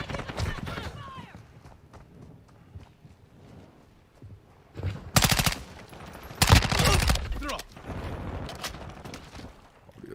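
Automatic gunfire in the Call of Duty Modern Warfare II video game, with a couple of loud, close bursts of rapid shots in the second half, set against quieter game sounds and brief voice lines.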